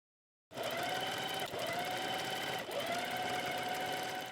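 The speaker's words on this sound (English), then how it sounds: "Then with a straight stitch, we stitch down along the edge of the fold." A sewing machine runs a steady straight stitch along the fold of a flat felled seam, a continuous close whirring hum with a brief dip in pace partway through, and no talking.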